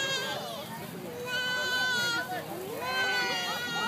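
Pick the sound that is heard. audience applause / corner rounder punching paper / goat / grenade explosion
goat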